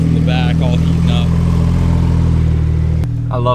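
Porsche 992 Turbo S with a JCR titanium exhaust idles with a steady low drone that drops in pitch near the end, while someone talks over it.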